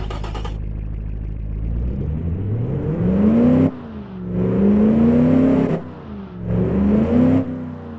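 Simulated pickup truck engine tuned to mimic a diesel, revving repeatedly in Automation and BeamNG.drive: a low rumbling idle climbs into three rising, whining rev sweeps that fall away between pulls, loud and close with no talk.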